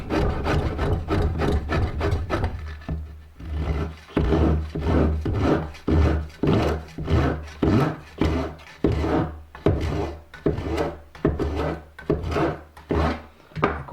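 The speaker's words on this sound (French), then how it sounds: "Donc ici on va procéder à l'arasement des plaquages qui dépassent." A hand tool rasps rhythmically along overhanging wood veneer edges, trimming them flush in a steady series of close scraping strokes with brief pauses between bursts.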